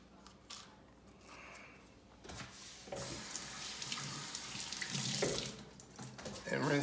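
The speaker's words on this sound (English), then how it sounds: "I kind of rinse the pepper out a little bit" Tap water runs into a sink while a pepper is rinsed under it, a steady splashing rush that grows louder and fuller as the flow hits the vegetable, close up with no voices.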